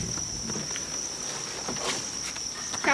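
A steady, shrill chirping from farmed crickets runs unbroken throughout, fairly loud and close, with faint light tapping and shuffling underneath.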